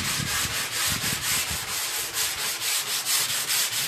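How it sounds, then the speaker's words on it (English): Hand sanding along the edge of a wooden buffet, a steady back-and-forth rasp of abrasive on wood in quick, even strokes, close and continuous with no talking. "I don't need to sand it smooth anymore, because it's already smooth from my big sander. I'm going to do the edge."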